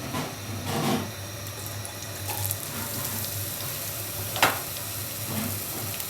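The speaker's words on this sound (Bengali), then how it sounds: "এই যে তেলটা গরম হয়ে গেছে, এখন আমি পেঁয়াজ দিয়ে দিচ্ছি।" Onions drop into hot oil for a pomfret fish masala, producing a continuous, watery sizzle that is close and moderately loud, with a sharp crackle near the end and no talking.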